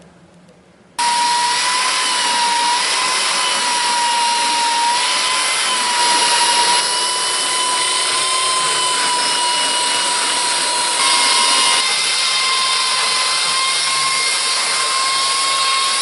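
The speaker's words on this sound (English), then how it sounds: "I'm going to be sanding for a while" A power sander works across a pine kitchen table top cut from home-milled board, starting abruptly after a quiet moment and then running as a loud, steady high whine with slight shifts in pitch as pressure changes.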